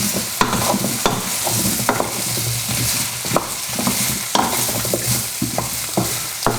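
Spiced vegetables for a lentil casserole frying in a pot while being stirred, a steady sizzle broken by repeated scraping strokes of a spoon at an even rhythm, close and loud with no voices.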